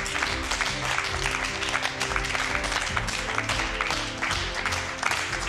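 Audience applause in a cooking competition studio, a steady, dense round of clapping from the crowd that runs unbroken for several seconds at close range.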